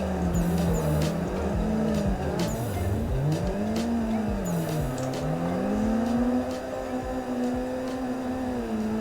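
Two cars drift in tandem with engines revving and swooping in pitch, tires squealing steadily, loud and close throughout.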